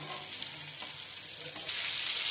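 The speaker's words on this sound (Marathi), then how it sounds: "आपल्याला एकदम मंद आचेवरच फ्राय करायचे आहेत." Pieces of pomfret fish frying gently in a pan over a low flame, giving a steady, close sizzle and hiss that swells slightly louder near the end, with no voices.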